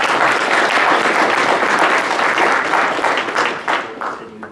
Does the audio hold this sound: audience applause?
yes